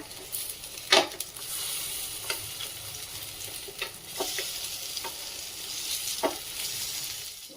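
A vegetable rice cutlet made from leftover seasoned rice sizzles steadily in a hot pan, with occasional sharp crackles and pops; no voices.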